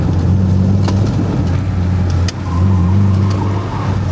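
Loud, steady engine and road drone from a VAZ 21043 estate being driven at speed on a wide road surface while starting to lose front grip, with a brief dip in the middle and no talk.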